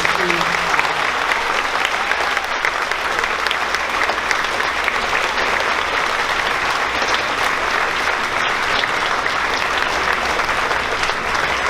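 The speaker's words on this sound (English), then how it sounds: "Let's give a round of applause for these students." Audience applauding students at a sixth grade graduation ceremony, sustained dense clapping from a large crowd filling the room, steady and loud throughout.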